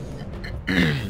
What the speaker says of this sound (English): I'm trying to clear my throat as well